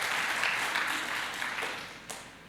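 A church congregation at a Sunday service applauds in a soft, dense wash of clapping that stays fairly steady and then fades slightly toward the end, heard at a distance in a large hall.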